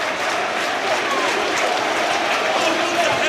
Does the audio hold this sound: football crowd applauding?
yes